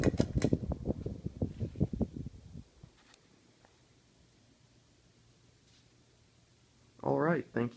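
A FASCO Charleston second-generation ceiling fan runs with a steady, soft whoosh of moving air and a faint low hum, heard after a burst of speech at the start and before talk resumes near the end.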